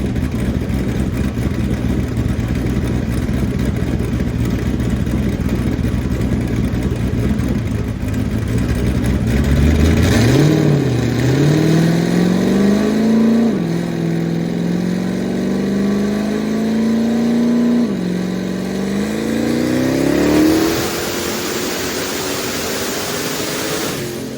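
Turbocharged LS3 V8 with an 88mm turbo at 15 pounds of boost on a dyno, loud and close, idling then climbing through long rising revs with brief dips before winding up again to a high pitch.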